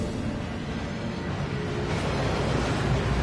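Steady broadband rush of a waterfall inside a vault in a Harry Potter video game, a constant full wash of roaring water that swells slightly louder toward the end, with no voices.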